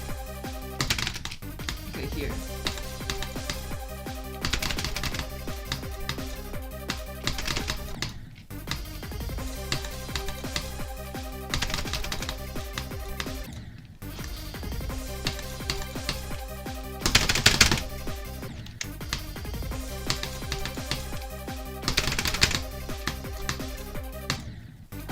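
Rapid computer keyboard clicking during a rhythm game, with a steady dense pattern of keystrokes running throughout over busy game music, and brief speech near the start.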